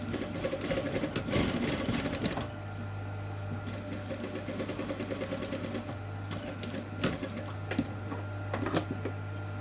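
A sewing machine runs close by, stitching piping onto a box cushion in fast rattling bursts with a steady motor hum and short pauses between runs.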